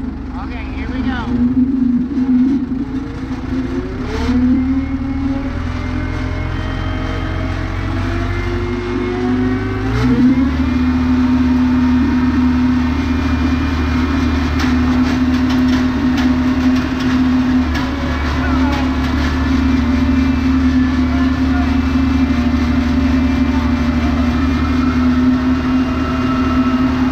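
A Koller 501 cable yarder engine drones loudly and steadily close by, its pitch rising as it works harder at about ten seconds while pulling back the skyline, with people talking over the engine noise throughout.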